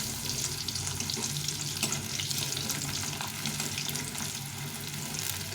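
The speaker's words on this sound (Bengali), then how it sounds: "এই সেদ্ধ আলু ভেজে নিলে খেতে ভালো লাগে" Boiled potatoes frying in oil in a pan for an egg and cauliflower curry, giving a steady, close hiss and sizzle that runs unbroken throughout with no voices.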